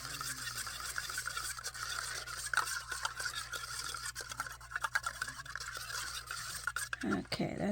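A brush swirls and scrapes through crackle-effect paint, giving soft rhythmic scratchy stirring strokes up close and faint throughout, with a clunk near the end.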